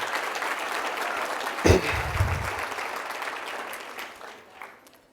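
Audience clapping at an award presentation, a steady wash of applause lasting a few seconds and tapering off toward the end.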